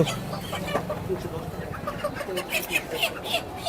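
Chickens cluck and squawk at a busy market stall, the bird calls rising repeatedly over steady crowd chatter and a nearby voice talking throughout.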